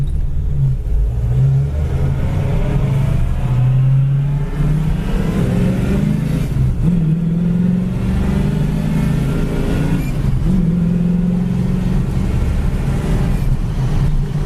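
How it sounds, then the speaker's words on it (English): A restored 1968 Ford Mustang drives down the road on a windy day, its engine rumbling steadily and loudly with rising revs and gear shifts, wind noise mixed in throughout. "Car shifts great going down the road."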